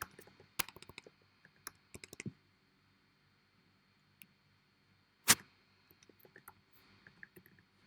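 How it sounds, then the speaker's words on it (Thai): Typing on a computer keyboard while setting up a Dialogflow chatbot: sparse, close key clicks in short bursts with pauses between them, then a single louder tap and a few more scattered presses. "โอเคเราจะพิมพ์คำว่าเช็คเกรดนะครับ"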